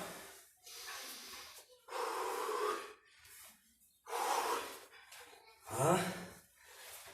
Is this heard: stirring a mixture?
no